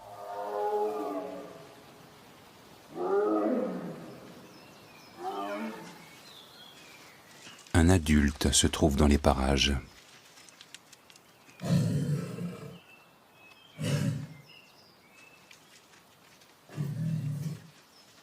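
A tiger roars in a wild forest setting, with several loud, rough bursts after stretches of narration, the longest roar coming first and shorter ones following at intervals.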